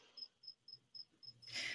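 Crickets chirping in a quiet outdoor night setting, a regular pulsed trill repeating about four times per second, faint and fairly distant, followed by a brief rustling swell, no speech.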